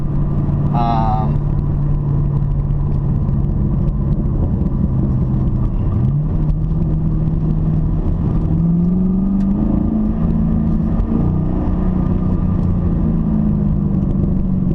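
Chevrolet Camaro SS driven in winter conditions, with a steady low engine drone and road rumble throughout, the pitch rising gradually as it accelerates, a voice talking over it.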